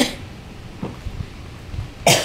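A couple of muffled coughs and throat noises during a mukbang of pancit canton, boiled egg and hotdog, fairly quiet and close, ending with a louder sharp burst.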